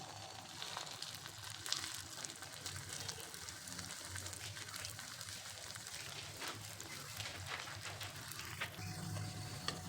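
Sabudana vada mixture sizzles in hot oil during frying, a steady close crackle and bubbling that fills the scene without a break, with faint kitchen clatter and no clear talk.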